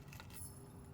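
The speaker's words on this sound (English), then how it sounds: "Car keys." Car keys jangle briefly in the Blue Prince video game, a short bright metallic rattle with no talking over it.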